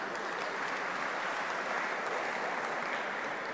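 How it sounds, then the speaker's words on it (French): A dense, steady wash of audience applause for young tennis players at a national tennis teachers' conference, loud and unbroken from start to finish, with no voices. "Je vais vous demander de les applaudir parce qu'ils sont un peu impressionnés."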